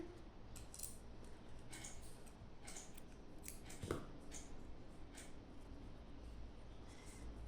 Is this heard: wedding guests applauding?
no